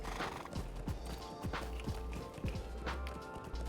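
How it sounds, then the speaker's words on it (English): A horse mount in The Lord of the Rings Online trots along with regular hoof clip-clops and a brief whinny, close and clear over a faint game backdrop. "And I also have my favorite horse."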